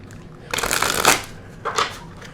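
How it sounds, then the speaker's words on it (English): Cards being shuffled close up, a long riffle followed by a shorter second riffle, crisp papery rattling against quiet background. "we're going to shuffle one more time"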